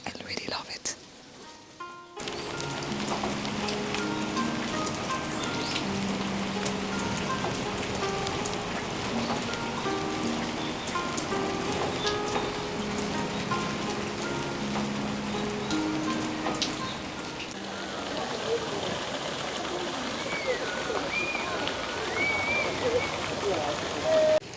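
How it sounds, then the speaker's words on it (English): Steady rain patters on surfaces at a temple in Dazaifu, a dense continuous hiss with a brief quieter start and a brighter shift near the end, while a voice speaks softly underneath. "even with the sound of the rain and everything, it's really calm, tranquil"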